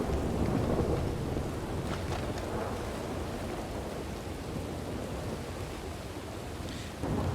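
Heavy rain pours in a Red Dead Redemption 2 storm, a dense, steady hiss with low rumbling underneath, loud at first and then easing slightly, with no voices.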